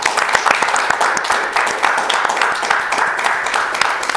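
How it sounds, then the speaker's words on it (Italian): Steady clapping from a small group of people, continuous and fairly loud for a few seconds, with a few voices mixed in. "fatevi un applauso"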